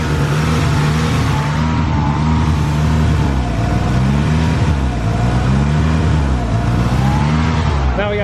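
A car engine is revved up and down repeatedly, close and loud, the pitch rising and sagging in uneven blips as it struggles to settle into an idle.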